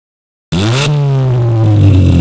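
A car engine cranks and catches after a moment of silence, then settles into a loud, steady running hum.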